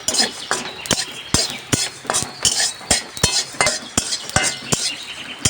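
Coriander and cumin seeds dry-roast in a hot wok while a spatula scrapes and clinks against the metal in a steady rhythm of sharp strokes with faint sizzling beneath.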